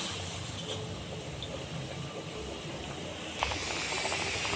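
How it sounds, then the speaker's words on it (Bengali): Potatoes boil in salted water in a cooking pot, giving a steady, even hiss of steam that holds throughout and rises slightly in brightness near the end, with no talking. "আলুগুলোকে সেদ্ধ করে নিচ্ছি"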